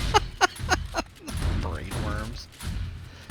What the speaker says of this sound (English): Hells is using the AK.